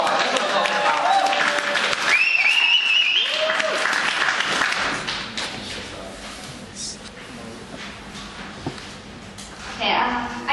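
Audience clapping at a spoken word poetry event, a loud burst of applause with whoops and cheers that gradually thins out while a host talks over it.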